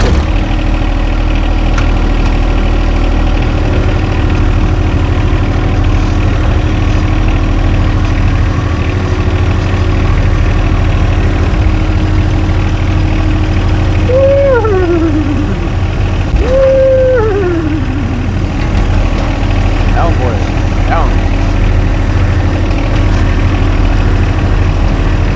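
A farm tractor engine idles with a steady low, even drone, close and loud, holding unchanged for about 25 seconds while a few brief whistling tones rise and fall in the background.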